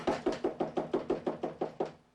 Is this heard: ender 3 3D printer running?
no